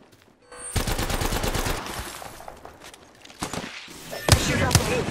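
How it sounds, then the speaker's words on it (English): Rapid bursts of gunfire in the Apex Legends battle royale game, aimed at the player, crack loudly and repeatedly with dense automatic fire and a few sharp close shots, with brief gaps between volleys. "Getting shot at."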